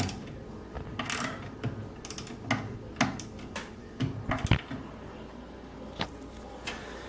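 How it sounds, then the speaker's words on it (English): A wrench tightening the brake stay nut on a gas scooter, with a series of close metallic clicks and ratcheting taps spaced irregularly, quiet and without talk. "tighten up your brake stay nut. Sometimes you may have to stick a Phillips in from the bottom or another wrench."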